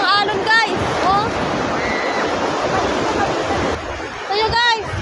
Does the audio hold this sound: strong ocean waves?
yes